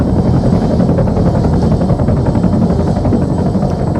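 A loud, steady helicopter rotor drone from the military game Arma 3, a continuous close thrumming with no pauses.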